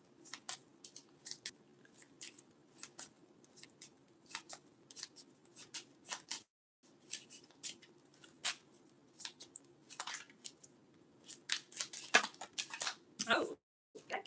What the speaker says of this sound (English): Let's pull some angel cards and get some angel messages.